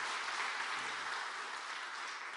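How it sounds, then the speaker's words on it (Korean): A church congregation claps warmly during a revival service, a dense, continuous wave of applause that stays strong for a couple of seconds. "이 시간 우리 흰머리 소녀들에게 뜨거운 박수로 격려해 주시기를 바랍니다"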